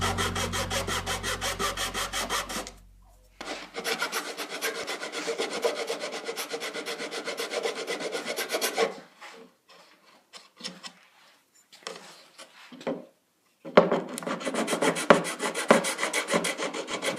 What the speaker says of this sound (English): we cut a tiny, tiny little piece from a piece of wood